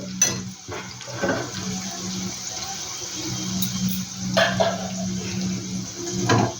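Chicken tipped into a pan of fried onions and capsicum, producing a dull wet thud and a spreading sizzle with clattering scrapes, close and fairly loud, followed by a low steady frying hiss.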